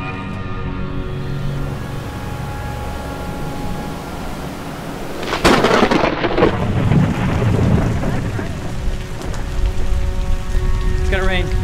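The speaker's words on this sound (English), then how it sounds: "We can hear the thunder in the distance" A thunderstorm at Angkor Wat: steady rain patters on surfaces, then a sudden loud crack of thunder rolls and rumbles for several seconds before the rain noise settles back.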